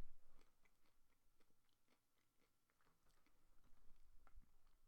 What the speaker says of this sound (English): you hear me crunching?